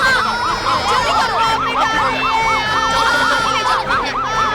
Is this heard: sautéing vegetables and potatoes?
no